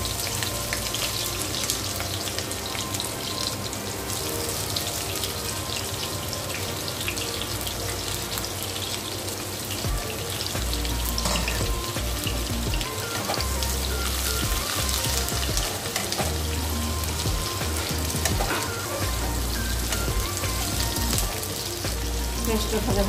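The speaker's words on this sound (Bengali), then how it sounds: "এবার আমি গ্রেভিটার জন্যে পেঁয়াজ দিচ্ছি।" Chopped onions frying in hot oil for a snakehead murrel fish curry gravy, a loud, dense, continuous sizzle that crackles like heavy rain throughout.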